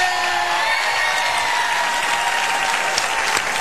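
Sustained applause and cheering from a television show audience, many hands clapping in a dense, even roar with scattered shouts, steady and fairly loud.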